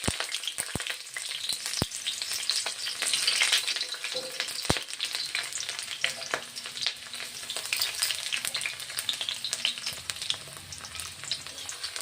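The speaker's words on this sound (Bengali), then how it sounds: "অল্পক্ষণ পেঁয়াজটা ভেজে নেব।" Onions frying in hot oil in a home kitchen pan, a steady close sizzle and crackle that holds throughout, with a few sharp clicks and light stirring.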